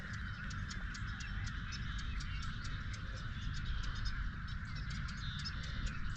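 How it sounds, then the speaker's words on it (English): Many birds call at dawn near Plymouth, Florida, before a storm, a dense chorus of repeated chirps and honking calls at a steady distance over low rumbling background noise, with no talking. "I don't know if you can hear all the birds."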